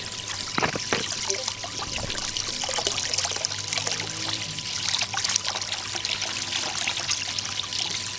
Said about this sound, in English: It fills up pretty quickly, and it does what waterfalls do.